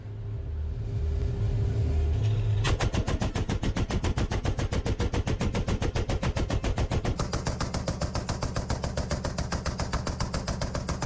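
A Soviet AK-630 rotary cannon fires a long, continuous burst. The rapid rattle is loud and steady and carries on for several seconds. It follows a low rumble at the start and stays level throughout, with no voices.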